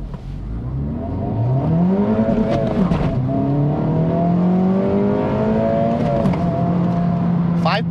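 2024 Acura Integra Type S accelerating hard uphill under a measured throttle, engine note climbing steadily through the revs with a brief dip at a shift, loud and close from inside the cabin.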